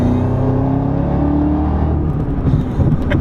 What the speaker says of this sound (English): The amazing sound from the automatic rev matching.